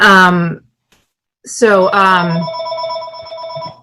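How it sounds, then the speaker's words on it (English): A home telephone rings with loud electronic trills, close and clear, at the start and again after a short pause. The second ring dies away into a low hum. Tonal ring patterns dominate, with no clear talk heard. "apparently people still call my home phone"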